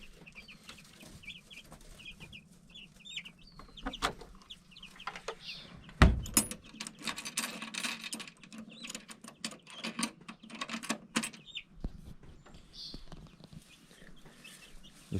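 Chickens cluck and call softly at a new backyard coop, with scattered mechanical clanks and one sharp knock among faint bird sounds at middle distance.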